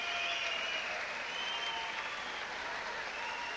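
Crowd at a Scottish boxing arena applauds a beaten fighter, a broad steady wash of clapping and murmur heard at a distance.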